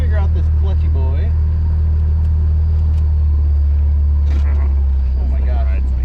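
Jeep Wrangler with a manual clutch pulling out of a driveway, its engine a loud, steady low rumble throughout, with people talking over it in the car.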